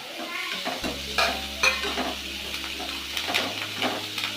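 Chopped onions, capsicum, tomato and curry leaves sizzle in hot oil while being stirred for chilli chapati, with irregular scraping clinks of the spoon over a steady frying hiss and a low hum.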